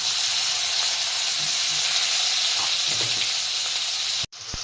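Masala spice mix hitting hot oil with cumin and curry leaves in a pan, giving a loud, steady close-up sizzle and hiss that runs unbroken and cuts off abruptly near the end.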